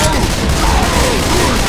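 Dense, loud, continuous gunfire in the Left 4 Dead 2 video game during the Swamp Fever campaign, close overlapping shots blurring into a constant roar.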